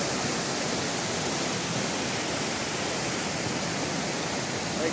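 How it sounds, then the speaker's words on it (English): Mouse Creek Falls along the Big Creek Trail in the Smokies, a continuous broadband rush of falling water, steady and close with no breaks and no voices. "I'm assuming this is Mouse Creek Falls"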